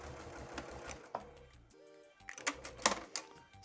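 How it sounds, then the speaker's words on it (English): Sewing machine stitching through fabric for a fabric postcard, quiet rapid mechanical chattering in short bursts separated by a brief pause with a low hum, then clicking resumes. "And then this other piece here I'm starting to sew."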